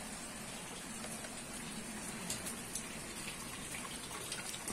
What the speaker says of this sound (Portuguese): voltou a chover no nosso Paraná querido